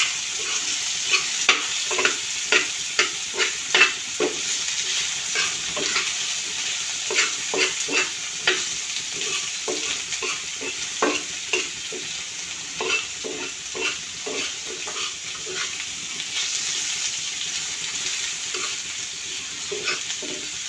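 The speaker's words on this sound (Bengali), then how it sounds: "মিক্সড করে নিচ্ছি।" Food with turmeric added is stirred in a frying pan: a steady sizzle runs underneath, and repeated clicks and scrapes of the utensil come in an uneven rhythm, close and moderately loud, with no speech.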